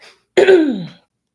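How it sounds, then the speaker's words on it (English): A single close, forceful throat-clearing cough, harsh and brief, preceded by a faint breath and followed by silence. "I feel like I have to cough now."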